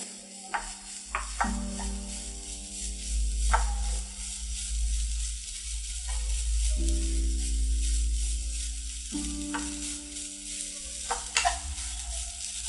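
Grated coconut dry-roasting in a kadai, soft sizzle under repeated scraping stirs of a spatula against the metal pan, close and steady with no talk.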